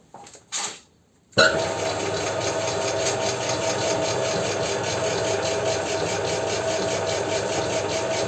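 A compound feed making machine starts up after a couple of brief knocks, then runs with a loud, steady mechanical roar and a rapid rattling beat.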